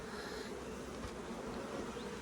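Dense buzzing of honey bees swarming over hive frames during a nuc transfer, a steady close-up hum with no pauses.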